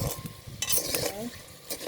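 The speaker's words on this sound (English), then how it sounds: "We are still frying the onion with all the spices." Onion and spices fry in a pan with a soft sizzle, broken by light scraping and stirring clinks of a utensil against the pan, fairly close and quiet.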